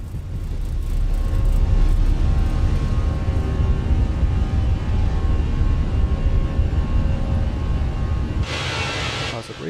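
A Fenix A319 jet takes off in Microsoft Flight Simulator, its engines holding a loud, steady roar with a whining tonal hum as it accelerates down the runway, and a brief hiss near the end.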